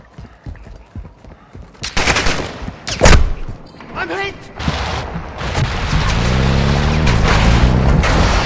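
Gunfire in the video game Call of Duty DMZ: sharp shots and a loud burst crack out amid rumbling booms, then dense sustained fire builds over a low drone, with game radio voices speaking in the mix.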